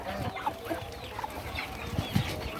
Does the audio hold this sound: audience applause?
no